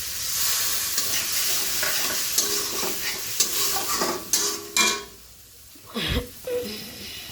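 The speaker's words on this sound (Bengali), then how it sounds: "হালকা একটু জল অ্যাড করবো যেন মশলাটা না পুড়ে যায়।" Spice paste fries with a little water for a potato and pointed gourd curry, a steady close sizzle broken by repeated spatula stirs and scrapes against the pan, then a brief lull and a louder burst of sputtering.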